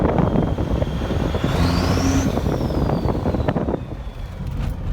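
First-gen 12V Cummins truck underway, its turbo whistling in a rising then falling whine over a heavy diesel rumble, close and loud, easing off toward the end.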